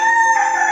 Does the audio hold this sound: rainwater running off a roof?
no